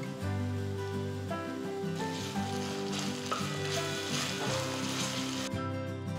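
Ginger garlic paste sizzles in a pan with golden fried onions, a continuous hiss of frying oil that holds steady over several seconds under a faint tonal background.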